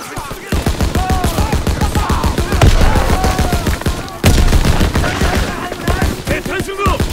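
Dense gunfire in the World War II shooter Call of Duty: WWII, played on PS4 Pro in a forest battle, with loud rapid automatic bursts and shots cracking continuously while voices shout over it.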